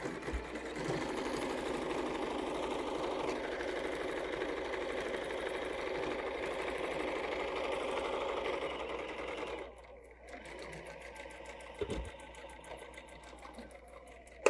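A sewing machine runs steadily while stitching a quilt-as-you-go table runner, a dense continuous whir for about ten seconds before it stops, followed by quieter handling noise and a single soft knock.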